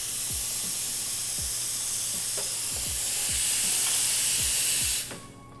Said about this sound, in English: you can go ahead and remove the steam wands from soaking and purge them out